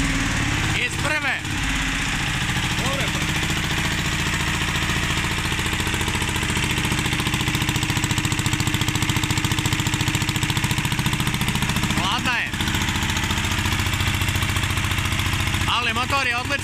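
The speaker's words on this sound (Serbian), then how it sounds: "Motor je odličan na ovoj kosačici" A Bedogni Olympia Italian diesel mower engine runs loud and steady at close range, with a few brief spoken words heard over it.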